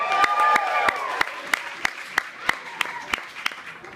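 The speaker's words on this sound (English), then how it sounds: "Give a round of applause to Hillary." Scattered hand claps from a comedy club audience ring out at a steady rhythm, some sharp individual claps standing above a thinner wash of applause, with no talking.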